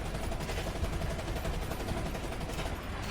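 Rapid, dense tank gunfire in War Thunder rattles continuously in a loud, sustained barrage.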